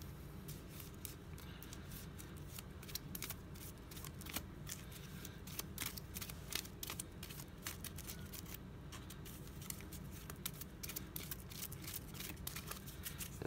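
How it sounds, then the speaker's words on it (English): Shuffling a small deck of fewer than fifteen game cards, soft irregular flicks and riffles, faint and close throughout, with no talk. "It's not easy to shuffle 15 and less cards."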